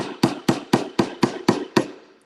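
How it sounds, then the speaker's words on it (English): Small hammer tapping a steel key into a clamp during a piano backcheck replacement: seven crisp, evenly spaced metallic taps, close and distinct, each decaying quickly, with no talking. "just using a small hammer, I'm going to slowly, carefully just tap this into place"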